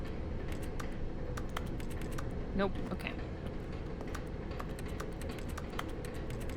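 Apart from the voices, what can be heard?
keyboard typing sound on each click, video game The Stanley Parable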